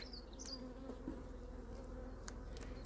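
Honeybees buzzing at an opened hive during a beekeeper's inspection of a nucleus colony, a steady low hum with occasional closer passing buzzes and no talk.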